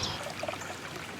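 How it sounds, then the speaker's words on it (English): Water trickles softly in a store-bought garden bird bath fountain, a faint, steady splashing dribble heard briefly and alone. "this is more of a store-bought fancy fountain that will attract birds"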